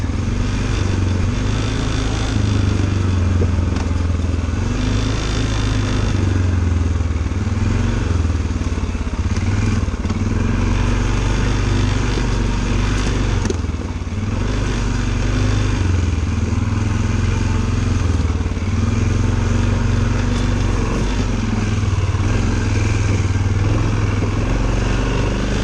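A Polaris 500 two-wheel-drive ATV engine runs steadily on a Connecticut trail, a loud, continuous rumbling drone with slight rises and dips in revs and occasional clatter throughout.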